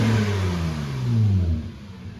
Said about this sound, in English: I did quad exhaust with these really nice dual carbon fiber tips. It sounds really good. Here's a little sound clip of that.